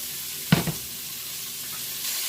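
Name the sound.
vegetables sizzling in a hot pot for chuck roast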